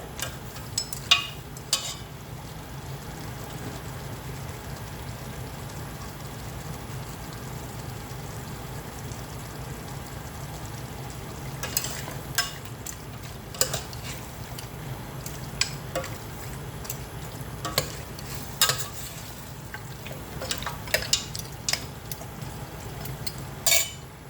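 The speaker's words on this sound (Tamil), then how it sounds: "இப்போ இதை நாம் கொஞ்சம் நேரம் நம்ம சாட் பண்ணுறோம் கீயில்" Marinated mutton sautés in ghee for a mutton pulao, giving a steady low sizzle throughout with scattered clinks and scrapes of a spoon against the pan, growing busier in the second half; no talking.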